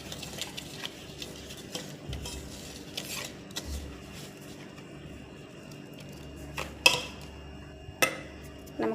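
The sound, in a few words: stirring sugar into butter for cookie dough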